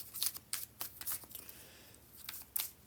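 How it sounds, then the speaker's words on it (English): Tarot cards are shuffled in quick, crisp riffling bursts, several soft flutters and snaps spread across a few seconds, close and fairly quiet with no talking. "All right, I've shuffled enough."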